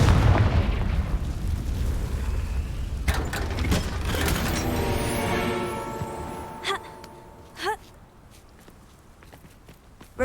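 A Confringo fire spell from Hogwarts Legacy bursts with a deep rumbling explosion at the start that decays over several seconds. A few sharp crackles and pops follow, with brief bright tones trailing near the end.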